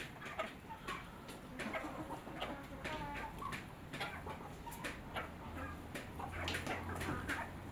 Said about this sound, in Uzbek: Parrandalar